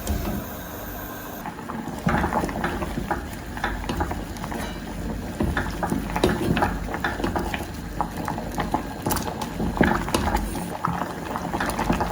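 Rice and moong dal for sweet pongal simmer in a pot of water, giving a steady, close bubbling and popping that runs without pause throughout.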